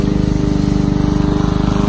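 A lawn mower runs close by as grass is cut, its engine giving a loud, steady, pulsing drone with no breaks and no voices.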